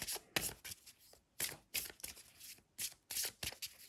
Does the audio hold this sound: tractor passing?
no